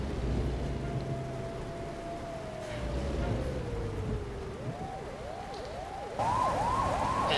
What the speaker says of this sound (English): mod installed for the police having their lights and sirens on